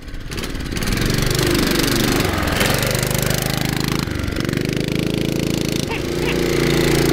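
A vintage 1972 Sears Roper mini bike with a small 5-horsepower engine runs loud and close, chugging with a rough, rapid beat that holds steady and dips briefly a few times.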